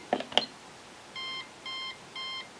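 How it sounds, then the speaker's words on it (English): Three short, evenly spaced electronic beeps from a Megger MFT1741+ tester warning of 1000 volts sound alone after a couple of quick clicks, each tone steady and clear at moderate volume. "it's just beeping to say it's 1000 volts. It's giving me a little warning"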